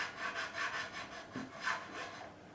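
A file works the nut slot of a Squier Telecaster guitar, widening it with short, rhythmic back-and-forth rasping strokes, quiet and close, with no talking.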